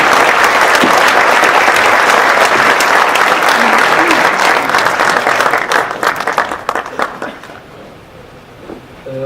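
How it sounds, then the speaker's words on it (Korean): A lecture audience at a Yangpyeong talk delivers loud, dense applause that keeps up for several seconds, then thins into scattered individual claps and fades away near the end. "박수 부탁드리겠습니다, 여러분"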